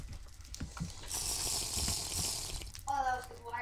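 A character drinks a bottle of water in a video game, a steady sloshing, hissing gulp lasting a couple of seconds, followed by a voice speaking.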